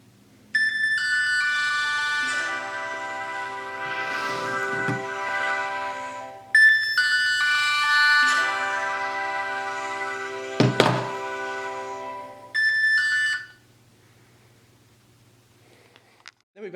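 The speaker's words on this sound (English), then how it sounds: "just holding down the start button for a few seconds, my phone will actually ring with the simple track selection" A smartphone rings out with a repeating electronic melody, set off remotely by a Casio G-Shock GWB5600 watch; three bursts of the ringtone sound clearly with short pauses between them, loud and close, with a couple of soft thunks in the middle.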